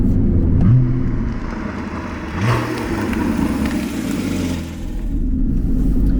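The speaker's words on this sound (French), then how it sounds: "toujours ce bruit à la décélération, vraiment très agréable" A Porsche fitted with a SCART exhaust drives by on the road, its engine burbling and rumbling through acceleration and deceleration, loud and close with swelling revs and no talking.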